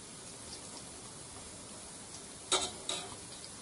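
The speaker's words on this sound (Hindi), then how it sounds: "देखिए 5 से 6 मिनट हो गए हैं इन्हें फ्राई होते हुए" Mathri fry slowly in hot oil over a low flame, a soft steady sizzle with faint bubbling, then two brief brighter splashes near the end.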